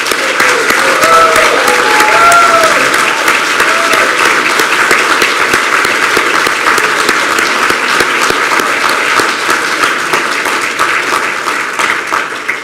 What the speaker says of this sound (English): I think we should give all our graduates a round of applause